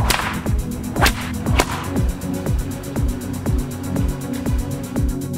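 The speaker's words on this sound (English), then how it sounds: "today we're whipping red cups" A whip cracks against a red plastic cup in a quick series of sharp snaps, a few loud close cracks at the start and then evenly spaced lighter strikes repeating steadily throughout.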